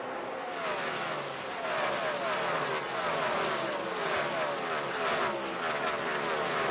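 NASCAR Cup Series race cars circling the Phoenix track during the 2007 Checker Auto Parts 500, a dense continuous engine roar from a pack passing at a distance, steady and loud throughout.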